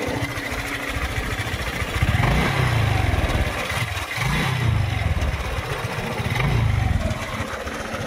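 A motorcycle engine with a rattling fault runs steadily at idle with a low, throbbing rumble, its pitch rising and falling a few times as the throttle is blipped.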